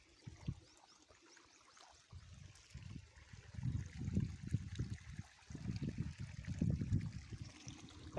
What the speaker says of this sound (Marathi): अशा प्रकारे पाणी देणं चालू आहे बघा मित्रांनो